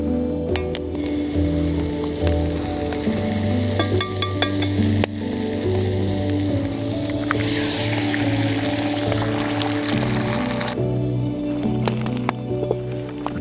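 Food fries in a pan set directly on a burning Swedish torch log outdoors, a steady crackling sizzle with occasional pops and clicks running continuously throughout.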